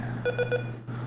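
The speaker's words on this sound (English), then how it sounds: "If you can hear that beeping in the background, that's the baby monitor" A baby monitor gives three quick electronic beeps in a steady rhythm over a low background hum, fairly faint and close.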